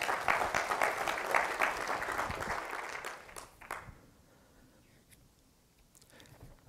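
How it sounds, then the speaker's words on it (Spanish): A church congregation in a Spanish-language service gives a hearty round of applause. It lasts about three seconds, tapers off with a few last claps, and falls into quiet room noise. "Dale un fuerte aplauso al Señor."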